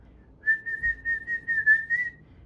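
A person whistles a steady, wavering tune of about two seconds, one continuous pitched line with small rhythmic swells, clear and close over a quiet background with no talk.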